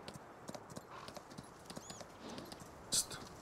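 A horse in Farming Simulator 19 clip-clops along with quick, light hoof taps at an even walking pace, moderately close, ending in a brief sharp high squeal.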